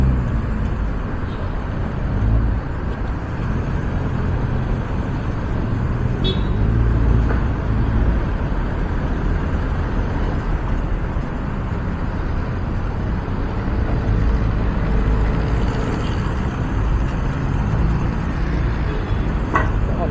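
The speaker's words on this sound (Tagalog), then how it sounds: "Traffic." Road traffic heard from inside a moving vehicle, a continuous loud low rumble of engines and tires with no pauses.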